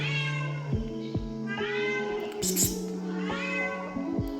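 A cat meows angrily several times in a row, loud and close, each call drawn out and falling in pitch, with no talk over it.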